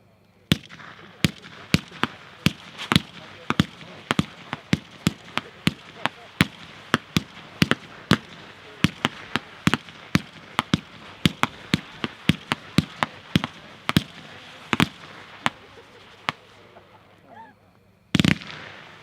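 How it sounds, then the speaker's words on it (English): Rising Dragon fireworks cake from Pyroplanet, 30 shots, firing a long string of sharp, loud bursts at an irregular rapid pace for about fifteen seconds, then a brief pause and one final heavy report near the end. "Number 6 is Rising Dragon, Pyroplanet brand, packed 4-1,"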